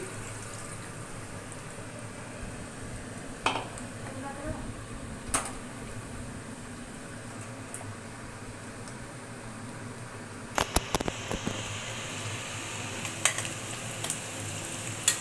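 Onions and garlic sauté in a pan with a low, continuous sizzle under a steady background hum, with occasional scraping stirs and clinks, mostly in the latter half.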